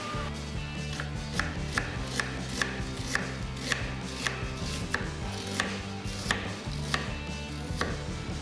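A knife slices potato and onion on a cutting board for potato soup, a steady run of crisp close chops at an even brisk pace with no talking.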